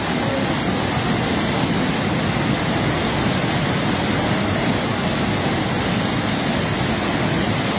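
Floodwater of the Khowai River rushes loudly and steadily, a dense continuous roar close by with no pauses and no voices.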